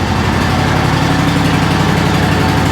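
An Exmark Laser riding mower engine running, a loud, steady, close rumble that holds unbroken throughout.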